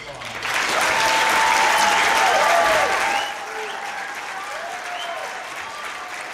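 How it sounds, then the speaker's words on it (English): An audience at a school skit show gives a loud round of applause for about three seconds, then a voice talks over lingering background crowd noise. "Please give them a round of applause."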